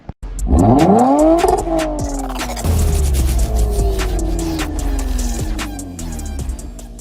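A Mazda 6 with a 2.5-liter SkyActiv Turbo engine revs loudly and close as it pulls into a garage, its pitch rising then falling into a smooth, steady hum as the car rolls in.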